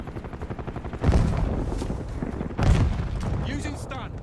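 Call of Duty Black Ops 6 gameplay with a frag grenade thrown, two heavy booms over steady rattling gunfire and battle noise, with a voice calling out in the game.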